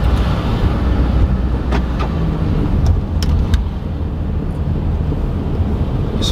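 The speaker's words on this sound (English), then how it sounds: "So the car is revving up." A Mercedes-Benz car engine runs with a steady loud roar and rumble throughout, with some wind noise and a few faint clicks.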